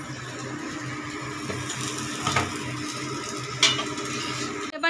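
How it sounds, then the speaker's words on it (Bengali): Tomatoes frying in a pan for khichuri are stirred, producing a steady sizzle under rhythmic scraping strokes, with a couple of louder clinks of utensil on pot near the end, close and without talk. "টমেটো দিয়ে ভালো করে আবার ভাজা হচ্ছে।"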